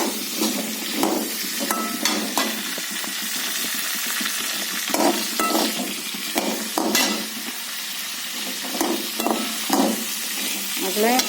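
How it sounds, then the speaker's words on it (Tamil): Onions sautéing in oil for a dried-fish curry, a continuous bright sizzle with intermittent scraping stirs, close and loud throughout, without speech. "எண்ணெய் இன்னும் கொஞ்சம் கூட ஊற்றணும் அப்போ தான் நல்லா வெங்காயம் வதங்கும்"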